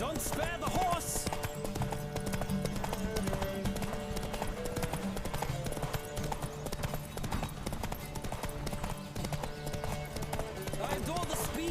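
Hoofbeats of a galloping horse in The Witcher 3, a steady clip-clop rhythm running under game music, with a voice speaking over it throughout.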